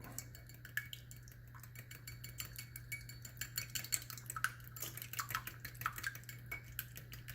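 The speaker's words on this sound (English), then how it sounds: "Now I'm going to add a little milk to mine and just whisk that up." Milk being whisked in a bowl for a chocolate puff pastry glaze, with a steady run of soft metal-on-bowl clinks and light scraping, fairly close and quiet over a low constant hum.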